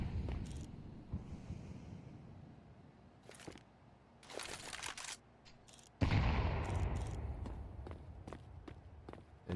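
Pistol shots in a Counter-Strike match during a pistol-round Rush B push, heard as a few sharp bursts between footsteps, then a louder flurry of gunfire near the end.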